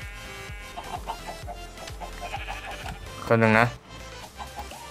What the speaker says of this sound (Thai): ไก่จะออกแล้วมองเราดูสิ